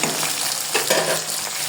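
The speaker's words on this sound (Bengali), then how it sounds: "আজকে ডিম দিয়ে মুরগির মাংস রান্না করবো এই যে ডিম আলু পেঁপে একসঙ্গে ভেজে নিচ্ছি" Egg, potato and papaya fry together in a pan with a dense, continuous hiss and sputter, close and fairly loud, plus a few soft stirring scrapes, nobody speaking.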